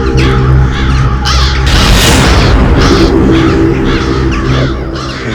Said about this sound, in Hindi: इतने सारे कौवे इस वक्त?